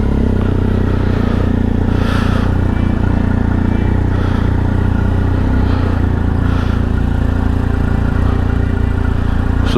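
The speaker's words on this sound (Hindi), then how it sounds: "Bike start." A motorcycle engine runs loud and steady throughout, a continuous low rumble with some clatter, heard at the start of a desert ride in the Middle East.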